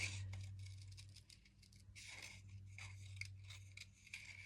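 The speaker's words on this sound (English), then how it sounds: "My hand is not too bad this morning, so I'm braving it and I'm fussy cutting" Scissors fussy cutting around printed paper pieces for a journal cover, a run of small close snips and soft paper rustles at an uneven, unhurried pace.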